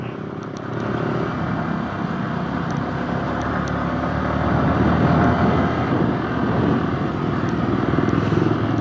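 Engine of a Yamaha R15 VVA motorcycle while riding, a steady loud drone with wind rush that swells gradually as the bike accelerates, with no pauses.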